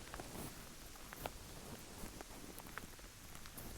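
Steady rain falling outdoors on a hike along the Camino toward Roncesvalles, a faint, even patter of drops with occasional rustles and soft taps, no one speaking.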